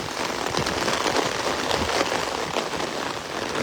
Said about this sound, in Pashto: دغه طوفاني باران وایي